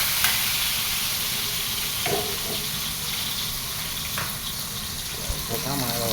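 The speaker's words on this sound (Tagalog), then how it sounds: "Lagay na rin natin itong sibuyas." Onion sizzles and fries in a pan with a steady, close crackle, with occasional stirring clatter and a brief voice over it.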